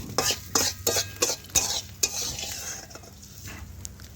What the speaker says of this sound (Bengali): চিংড়ি মাছ ভাজাগুলো এখন আমি তুলে নিচ্ছি